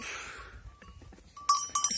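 Goats on a small farm bleat in short, close calls, a brief cry near the start followed by quicker high-pitched bleats toward the end, with light background noise and no talking.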